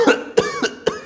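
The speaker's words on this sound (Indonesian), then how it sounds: "Batuk bapak-bapak." A person performs a middle-aged man's cough, several short gruff bursts in quick succession, close and fairly loud.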